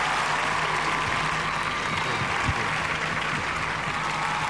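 A television dating show's studio audience claps in a sustained, even wash of applause that continues without a break, with no speech on top.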